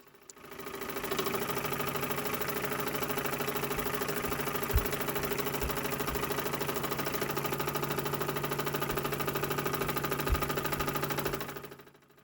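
A. Müller collectible working model steam engine running steadily, a fast even mechanical chuffing and clatter with a faint hum, moderately quiet and close, with no talk.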